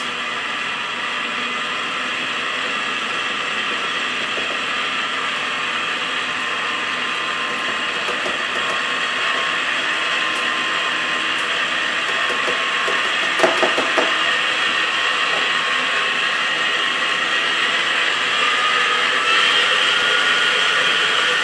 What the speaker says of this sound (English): turn my speed down to low again as we gradually incorporate the dry ingredients into the wet ingredients